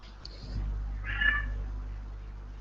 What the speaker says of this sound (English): My cat is still crying.